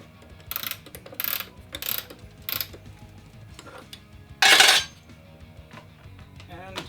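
Ratcheting collet tightening a router bit under a Festool CMS router table, several short metallic clicking bursts in quick succession followed by a louder rasping ratchet pass, close and without talking.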